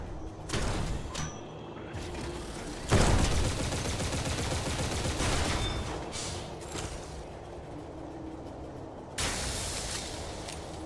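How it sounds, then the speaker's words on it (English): A missile launcher fires in a video game as a series of loud blasts and thuds, with explosive bursts recurring over a continuous rumbling background. "I just remembered I had this missile launcher."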